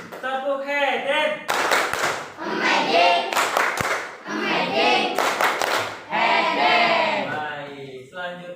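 A classroom chant with rhythmic group clapping, voices singing and calling in bursts while sharp hand claps land at a few points between the phrases.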